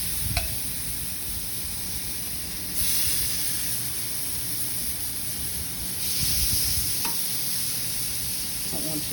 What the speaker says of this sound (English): You want it to sizzle.